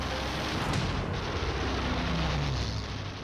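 A MiG jet fighter's cannon fires in a dense, continuous roar of bursts, loud and close, filling the whole stretch with heavy rumbling and no talk.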